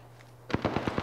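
Gunfire in the video game Apex Legends sounds as a rapid burst of about five sharp shots after a quiet stretch of low hum.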